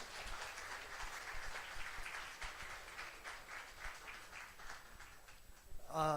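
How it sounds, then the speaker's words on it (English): An audience at a launch event for a Seiko Prospex limited-edition watch in the Philippines gives a round of applause, a dense patter of clapping from a moderate distance, with a brief burst of a voice at the end. "Let's give ourselves one big round of applause."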